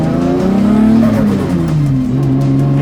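A Ford AU Australian drift ute's engine revs loudly and close, the pitch climbing, dipping through a gear shift, then pulling again, with faint tire noise.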